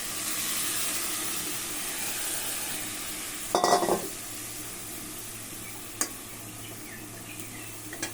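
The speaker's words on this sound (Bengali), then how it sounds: "এবার বাটির এই মশলা ধোয়া জলটার মধ্যে দিয়ে দেবো চারদিক দিয়ে" Spice-rinse water poured over kochur loti (taro stolons) frying in a pan sets off a sudden loud sizzling burst midway, then fades back to soft, low frying with a couple of light clinks.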